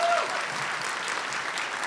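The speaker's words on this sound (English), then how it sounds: "So please just give her a round of applause as well." A short burst of steady audience applause for a college president at an outdoor scholarship awards celebration, many hands clapping evenly with a faint voice at the very start.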